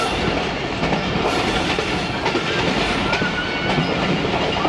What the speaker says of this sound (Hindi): बस अब वज़ीराबाद जंक्शन के यार्ड में ऑलमोस्ट एंटर हो चुके हैं